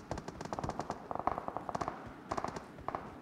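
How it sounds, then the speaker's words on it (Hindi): Gunfire in a mobile shooter match with random players, heard as rapid clustered bursts of sharp cracks in several volleys over a few seconds, moderately distant and fairly quiet. "ये तो गोली चल रही है"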